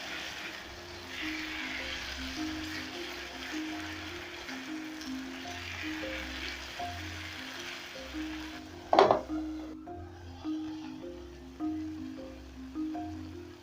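A spoon stirring salt into a simmering Swahili pepper sauce in a pot, soft scraping and faint sizzling with one sharp clink of utensil against the pot midway, fairly quiet throughout.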